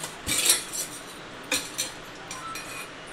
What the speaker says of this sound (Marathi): तेल टाकून याला छान भाजून घ्यायचं